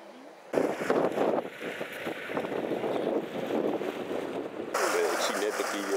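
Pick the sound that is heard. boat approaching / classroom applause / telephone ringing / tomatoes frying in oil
boat approaching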